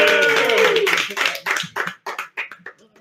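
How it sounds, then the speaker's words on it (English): A burst of clapping from a debate audience that thins out into scattered, fading claps over a few seconds. "I'd like to ask for just one more big round of applause for all our debaters tonight"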